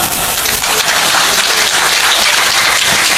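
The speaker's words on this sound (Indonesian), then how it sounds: "Tepuk tangan" Loud, dense applause from a crowd at a religious sermon gathering in Pasuruan, a continuous wash of many hands clapping close and energetic with no pauses, filling the whole moment without speech.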